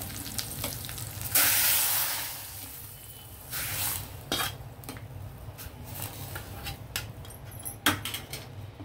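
Mustard seeds and dal sizzling in hot oil for a tempering for pappu charu, a steady close frying hiss with brief crackling bursts and light metal spoon clinks against the pan.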